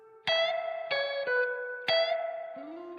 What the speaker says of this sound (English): we've only got reverb coming through because the selector is pointing only at reverb